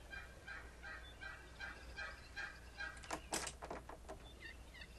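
Gobbling turkey-like bird in Second Life, faint repeated warbling calls running throughout, with a brief clattering thump partway through.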